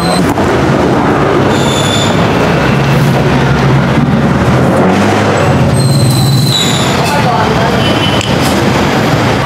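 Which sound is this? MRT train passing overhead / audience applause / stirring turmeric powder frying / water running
MRT train passing overhead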